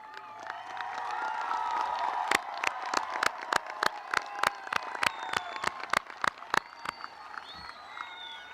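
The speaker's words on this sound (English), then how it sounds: "Will all of the members of the 28 National Honor Society members please stand for a round of applause?" A graduation audience at Chicopee High School applauds National Honor Society members, with cheering and whoops over a crowd wash, then loud, regular, isolated claps close by that keep an even beat.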